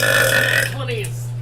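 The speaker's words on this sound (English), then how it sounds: "I didn't mean to burp out loud" A single loud, drawn-out burp sounds up close, tonal and rough, then fades into a quieter tail over a steady background hum.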